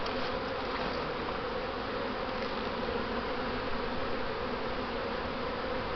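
Honeybees drone steadily in an open hive being inspected, frames of capped brood and stored food exposed, a dense continuous buzz close up with no talking.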